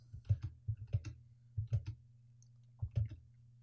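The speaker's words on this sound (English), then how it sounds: "Let's save the selected configuration by typing yes" Clusters of computer keyboard keystrokes tapped in short bursts, with a steady low hum running underneath.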